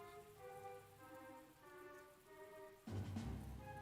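Faint rain patters steadily in the strategy video game The Great War: Western Front, beneath sustained musical tones, with a low thud and louder rush near the end.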